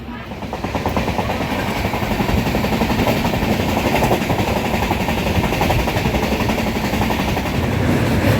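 The Dhauli Express passenger train runs steadily after leaving Shalimar, heard from on board: a loud continuous rumble with fast rhythmic clatter of wheels on rails, no voices.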